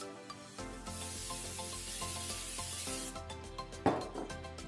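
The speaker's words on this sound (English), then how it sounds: "Spray some olive oil." Olive oil sprayed onto bacon-wrapped beef onion rings in an air fryer preheated to 400 degrees: one steady hiss of about two and a half seconds, close and clear, over a faint tonal background.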